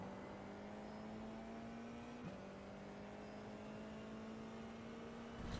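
Formula 4 race car engine in the iRacing sim at Barber: a steady, buzzing onboard drone holding a constant pitch, with a brief drop and quick rise at a gear change, loud and continuous with no talk.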